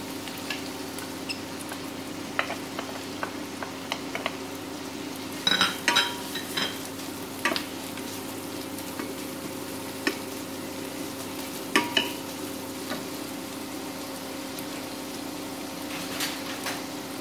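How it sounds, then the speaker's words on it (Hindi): Onions fry lightly in oil in a pan, giving a soft, continuous sizzle with scattered clicks and scrapes of stirring, fairly quiet and steady throughout with no talk. "प्याज को हमें बस हल्का से ही फ्राई करना है"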